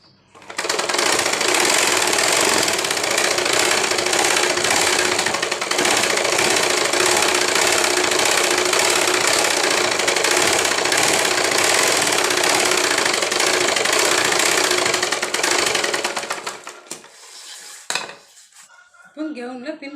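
A sewing machine stitches the lining of a gown in one long, loud, steady run of fast mechanical whirring, then slows and stops, with a little handling noise at the end.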